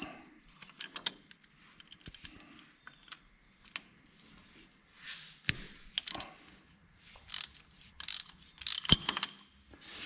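A wrench works a paint-caked bolt off the hydraulic pump of an 1850 tractor, making sporadic close metallic clicks, ratcheting and clanks between quiet pauses.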